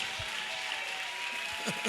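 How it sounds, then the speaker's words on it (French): Church congregation clapping in response to a preacher's call, a broad wash of applause with a few sharper claps near the end, moderately distant. "Acclamez le Seigneur Jésus-Christ."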